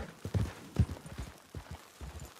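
Horse hooves clop along the ground in the video game Red Dead Online, with several uneven thuds and a couple of heavier impacts in a loose walking rhythm.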